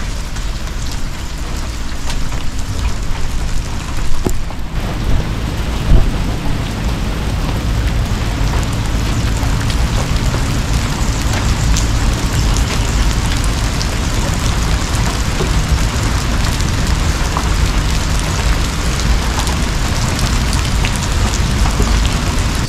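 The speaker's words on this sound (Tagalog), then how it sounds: "Biglang lakas ng ulan kanina" Heavy rain pours steadily during a rainy morning motorcycle ride, a dense continuous hiss holding at the same loud level from start to finish with no voices.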